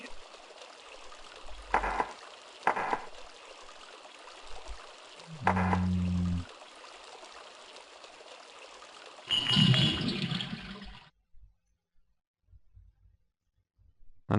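Water leaking from a pipe in the Sanitarium game's asylum courtyard, with scattered drips and splashes, a low gurgle, then a louder rushing gush of water before it falls quiet.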